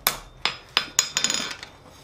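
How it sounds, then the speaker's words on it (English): Several sharp metallic hammer strikes on hot steel against an anvil ring out at an uneven pace while hand forging a holly leaf, a few quick blows clustering toward the end, close and moderately loud. "Go ahead and hammer that straight down and in."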